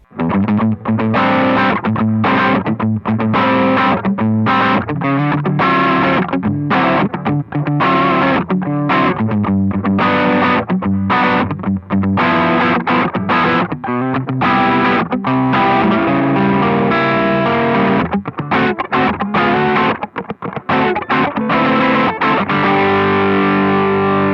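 Overdriven electric guitar with single-coil pickups through an Origin Effects Halcyon Gold overdrive pedal, playing loud, gritty chords and riffs continuously, with a thick distorted tone and no voices.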